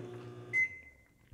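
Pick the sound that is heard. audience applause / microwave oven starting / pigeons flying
microwave oven starting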